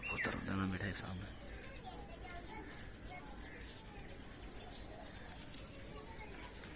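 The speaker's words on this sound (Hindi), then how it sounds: "कबूतर उड़े हुए बैठे सामने" Pigeons cooing and fluttering nearby in a village courtyard, soft low coos mixed with bird chirps, partly under continuous talking voices and background noise.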